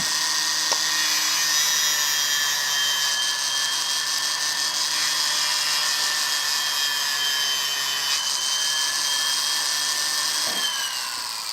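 A power grinder works steadily on enamel, giving a loud, continuous high-pitched whine with a gritty rasp that holds for the whole stretch and shifts slightly in pitch near the end, with no talking.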